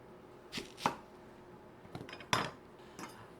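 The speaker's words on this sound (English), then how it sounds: "I'm just gonna cut away the dried up pieces." A knife chops fresh onion stems on a cutting board, several sharp, close cuts in two loose clusters with quiet pauses between them.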